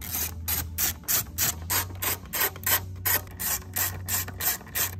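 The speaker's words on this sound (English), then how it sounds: "Now we can tighten them all down with our 10 mil." A ratchet tightens 10 mm bolts on the engine control module of a Dodge Hornet 2.0L. Quick, regular clicking strokes repeat steadily for about five seconds, close and fairly loud, with no talking.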